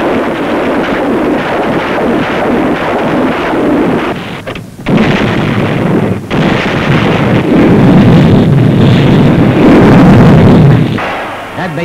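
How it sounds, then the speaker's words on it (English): A record artillery barrage pounding a North Korean mountain stronghold, heard as continuous rumbling booms and a roaring wash of noise with brief dropouts. It plays loud and distant-sounding, with a possible voice over the top. "Record artillery barrages pound the North Korean mountain stronghold."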